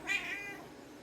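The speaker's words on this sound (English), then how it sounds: "He's a good kitty." A pet cat lets out a single brief, close meow indoors, bright and clear, then quiet.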